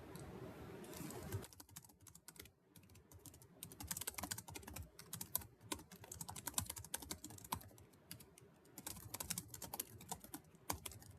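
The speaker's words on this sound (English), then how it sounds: "and then we can begin typing." Quick, irregular clicking of computer keys, close and fairly quiet, with bursts of typing separated by short pauses.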